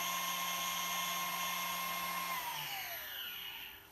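A ShopBot CNC spindle motor runs with a bright, steady high whine and an airy rushing hum, its pitch sliding down near the end as the tone fades.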